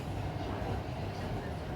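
A Mumbai Metro train runs between Andheri and Dahisar, heard from inside the front carriage as a steady, dense rumble and hiss of wheels and motors, with no talking.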